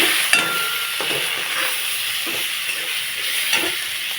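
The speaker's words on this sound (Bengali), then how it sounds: "টমেটো কুচি আর লঙ্কা চেরা করা দিয়ে দিচ্ছি স্বাদ মতো লবণ দিয়ে দেবো পরিমাণ মতো হলুদ দিয়ে দেবো মশলাটা একটু কষিয়ে নেব" Tomato, slit green chili, salt and turmeric fry together as a masala in a pan, giving a steady close sizzle with a few stirring scrapes and clicks throughout.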